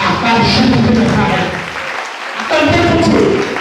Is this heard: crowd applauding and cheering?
yes